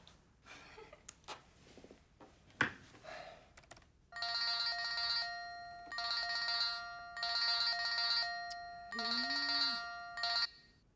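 A telephone rings repeatedly in steady electronic bursts, fairly loud and close, after a stretch of quieter sounds in a Korean TV drama scene, with a brief low tone near the end.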